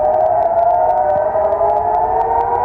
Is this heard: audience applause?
no